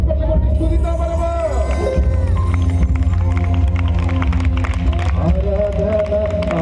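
A church congregation at a worship meeting claps along in steady rhythm beneath amplified music and singing, the clapping blending into the loud, continuous worship sound throughout.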